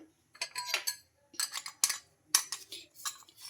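Metal murukku press with a three-hole plate being handled on a plate, producing quiet scattered clinks and clatters in a few short clusters with pauses between them.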